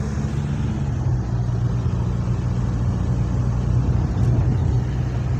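A Mazda RX-8 with a hot start problem cruises along back streets, its engine a steady low drone mixed with road rumble from inside the cabin, no one speaking.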